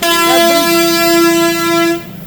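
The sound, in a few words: bus horn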